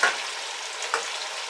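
Meat dropped into a simmering okra stew for Ghanaian banku, giving a steady close sizzle with a louder burst near the start and another just before one second.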